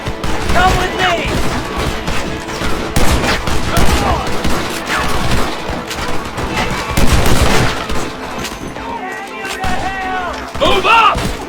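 Sustained gunfight from Red Dead Redemption, with dense, rapid gunshots and volleys crackling throughout under shouted voices, loud and close with bursts clustering near the end.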